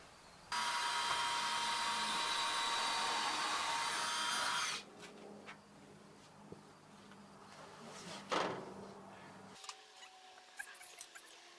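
Drill boring holes for a door hinge while hanging a Dutch door: a steady, loud whirring burst of about four seconds, followed by quieter handling clatter and a few knocks and scrapes.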